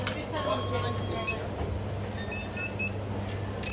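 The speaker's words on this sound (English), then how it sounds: "So this is Turkey's latest high-speed, long-distance train." A Turkish high-speed, long-distance train rumbles along with a steady low drone, faint wheel squeals and high tones rising over the noise of the rail carriage.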